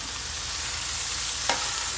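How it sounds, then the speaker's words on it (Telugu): Bottle gourd pieces fry in a pan over onions and curry leaves, a steady soft sizzle throughout with one brief clatter as something is added or stirred. "సొరకాయ ముక్కలు వేసుకోవాలి"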